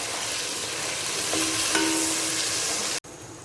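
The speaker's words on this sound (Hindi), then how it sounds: "यहाँ मैंने आधा मिनट लहसुन को अच्छे से हल्का सा फ्राई कर लिया" Garlic sizzles steadily in hot oil, a close, continuous frying hiss that cuts off abruptly near the end.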